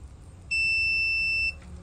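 A single steady high-pitched multimeter continuity-test beep, close and clear, holding for about a second before cutting off, with faint background hum around it.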